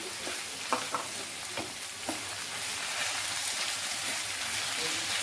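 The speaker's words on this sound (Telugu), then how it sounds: "ఉల్లిపాయలు బాగా వేగాక పుదీనా ఆకులు వేసుకోవాలి" Onions and mint leaves fry in a pan with a steady, soft sizzle, and a few light stirring taps come early on.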